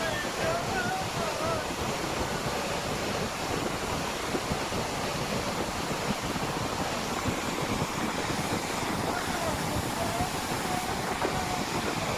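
Strong floodwater rushing at the Panchalingeswar shrine, a loud, dense and steady roar of torrential water that fills the whole clip without letting up.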